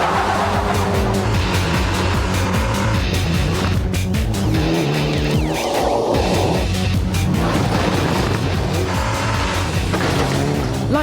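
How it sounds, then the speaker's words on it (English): A Group N Mitsubishi Evo 7 rally car engine revs hard and roars through gear changes while tires squeal and skid on the surface, loud and continuous. "this is a Group N Mitsubishi Evo 7."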